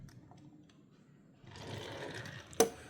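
A Hot Wheels Chevroletor toy car with wobbly front and rear wheels rolls across a surface, a soft, faint whirring rise lasting about a second, ending in a sharp click.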